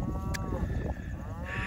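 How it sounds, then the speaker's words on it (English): A cow on a farm moos with a low, drawn-out call close by, alone and with no talk over it. Calves are kept with the herd nearby. "This is Bud, the cow."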